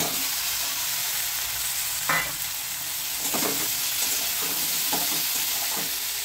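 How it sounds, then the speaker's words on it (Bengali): Jackfruit seeds, potato and a rohu fish head fry in a pan with a strong, steady hiss, broken by a few stirring scrapes and spatter bursts near the middle, close and loud. "এখন একটু দিয়ে দিচ্ছি এই সমস্ত বাকি উপকরণগুলো, কাঁঠালের বিচি, আলু আর মাছের মাথা।"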